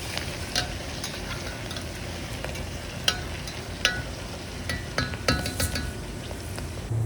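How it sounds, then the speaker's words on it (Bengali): Onions and garam masala sizzle and fry in a pan, a steady dense crackle with occasional sharp clinks of a utensil against the pan and no talking. "প্রথমে আমি পেঁয়াজ আর গরম মশলা দিয়ে সেগুলো একটু ভেজে নিচ্ছি"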